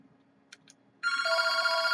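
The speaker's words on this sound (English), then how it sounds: "And the phone is ringing." A telephone bell rings loudly and steadily for the second half, after a quiet lead-in with two faint short tones, and no one talks over it.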